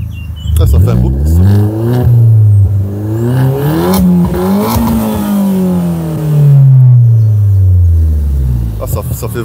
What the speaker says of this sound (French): Et on entend bien la dump valve quand tu accélères en plus.